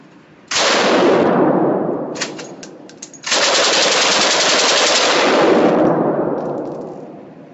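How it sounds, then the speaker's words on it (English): World War II Russian machine guns such as the PPSh-41, PPS-43 and DP-28 fired at an outdoor range, long loud sustained automatic bursts with a brief break between them, close and harsh. "we're going to be doing World War II Russian machine guns today"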